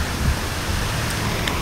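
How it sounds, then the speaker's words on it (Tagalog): Heavy afternoon rain pours down in Katipunan, a dense, continuous roar of rainfall with a low rumble beneath it and no speech in the clip. "Ito talagang umuulan yan kapuso?"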